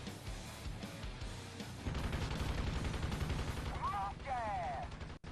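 Helicopter gunfire in the video game Thunder Wolves, dense rapid bursts rattling loudly over a rumbling backdrop, with a couple of short whistling sweeps near the end.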